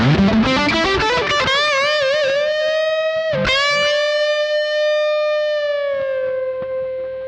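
Distorted electric guitar lick opens with a rising slide into a fretted note on the third string, then bends and sustains one long wavering note that slowly fades, loud and close with no talking.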